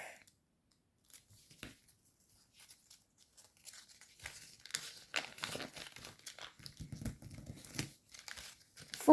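Paper crinkling and rustling in quick, close bursts as an origami gunboat is folded and squash-folded by hand, sparse at first and then denser and louder.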